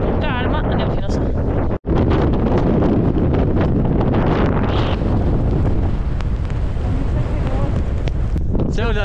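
Strong, sustained wind gusts buffet the microphone on the slopes of Cotopaxi volcano during a climb toward the José Ribas refuge amid fine icy snow, a loud continuous roar with one brief cutout and voices faintly under it.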